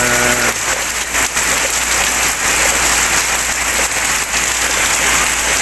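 Very heavy rain pours down on a farmhouse, a loud, dense roar of drops drumming on a roof and surfaces, steady and unbroken for several seconds with no voices over it.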